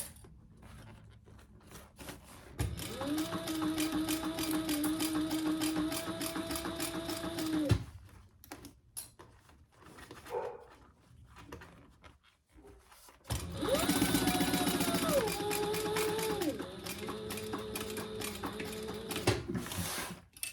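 Close by, a sewing machine stitches the first side of a zippered on-the-go pouch down to a corner mark, whirring in two steady runs of about five seconds each with a quiet gap between.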